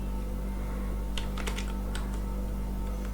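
Typing on a computer keyboard, a short burst of quick light clicks in the middle over a steady electrical hum, with no voices.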